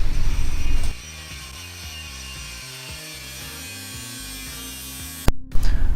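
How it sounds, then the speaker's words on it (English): An angle grinder cutting through a metal roof rack on a Fiat Ducato camper van, a loud rough burst at the start that drops into a steadier whining grind, then a sharp clack and brief rattle near the end. "I used an angle grinder to remove that section"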